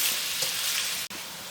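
Carrots sauté in a pan with a pinch of salt, giving a steady, close hiss of frying that carries on without pause, broken only by one very brief drop near the end.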